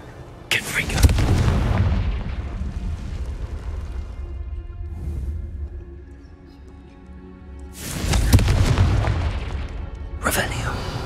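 Confringo blasting-spell explosions in Hogwarts Legacy, game magic going off in two loud booming bursts with a rumbling tail between them, plus a sharper pop at the close; game voice lines sound around the blasts.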